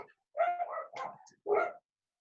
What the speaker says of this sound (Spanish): Calla los perros.